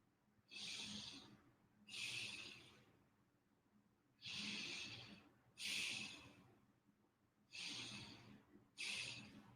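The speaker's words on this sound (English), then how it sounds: "Then take 3 deep breaths here." Six slow, deep breaths during a yoga stretch, each a long airy inhale or exhale of a couple of seconds separated by short pauses, close and fairly quiet with no talking.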